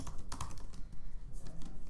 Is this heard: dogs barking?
no